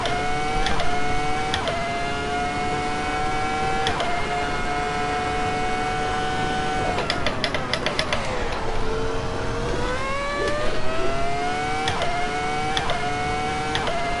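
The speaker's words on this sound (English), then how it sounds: "This is a glorious sounding car. Even with, like, stock Assetto Corsa sounds." Simulated car engine from the racing game Assetto Corsa, holding a steady high whine through the gears with a dip and rising pitch as it slows and accelerates again, loud and continuous with no talk over it.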